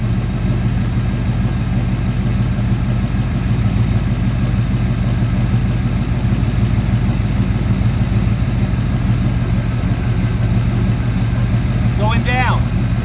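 A small-block Chevy 350 V8 in a 1974 Corvette idles steadily with a low, throbbing rumble that stays loud and even, while a brief chirp sounds near the end.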